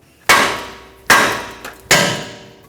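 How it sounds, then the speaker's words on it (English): Three loud metallic hammer strikes ring out on the steering knuckle of a 2015-2024 Jeep Renegade, evenly spaced and close up, each one ringing briefly before it fades, used to jar the outer tie rod stud free. "we're going to take a hammer to the side of the knuckle right here, tap it"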